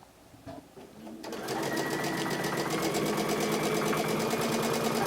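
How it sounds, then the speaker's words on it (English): A sewing machine stitches quilt blocks for a bow tie quilt, starting up after a brief pause and then running in a steady, fast, close whir that continues to the end. "And when you start sewing, it's going to sew on the new block."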